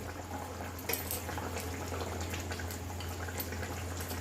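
Bhola fish curry with fish heads added simmers and bubbles steadily in a pan, a soft continuous boiling hiss with faint pops, close and quiet throughout.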